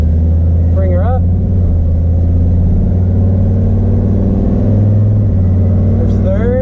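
A boosted 4.8 engine revs hard under load, a loud, steady droning roar rising and holding in pitch, with a voice speaking briefly over it.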